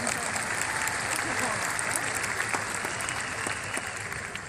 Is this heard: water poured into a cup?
no